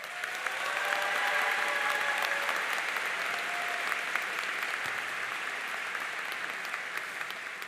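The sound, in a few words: applause for graduation speaker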